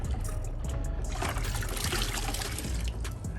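A microfiber wash mitt sloshed and scrubbed around in a bucket of rinseless car wash solution, giving a steady close-up watery swishing and trickling throughout.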